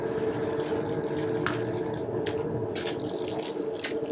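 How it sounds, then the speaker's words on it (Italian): Water runs steadily from a kitchen tap into pizza dough, a continuous close, fairly loud rushing splash with a few brief higher spatters, no talking. "L'acqua va messa poco alla volta, mai tutta insieme."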